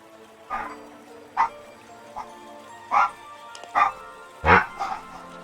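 Several dogs bark and yip in short separate bursts, about six over a few seconds, moderately near, with a low hum of background activity between them.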